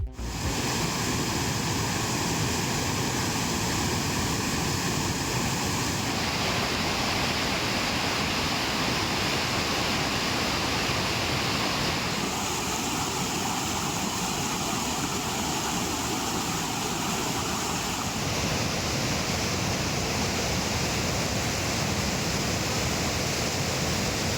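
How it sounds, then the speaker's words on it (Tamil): Bheeman waterfall in flood after sudden heavy rain, a constant loud broadband roar of crashing water filling the whole stretch, no voices. "பீமன் நீர்வீழ்ச்சியில் மழையால் திடீரென வெள்ளப்பெருக்கு ஏற்பட்டு தண்ணீர் ஆர்ப்பரித்து கொட்டுகிறது"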